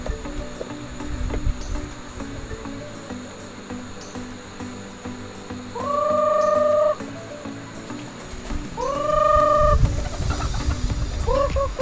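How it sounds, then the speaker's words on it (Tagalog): Farm chickens clucking over a steady outdoor background, with a few louder drawn-out calls standing out partway through. "papakawala naman tayo ng ating mga alagang manok sa bukid."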